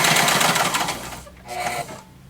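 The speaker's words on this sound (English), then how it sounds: "I'm going to take this over to the machine and sew these on." A sewing machine stitches ribbons onto a slipcover in one steady mechanical whir, stops, then gives a second short burst close by.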